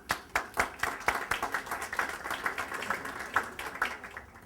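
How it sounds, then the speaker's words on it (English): A smallish audience at a business summit at Polytech NYU applauds a speaker, a lively patter of distinct, uneven claps from nearby hands that continues steadily. "Please give a round of applause to Steve."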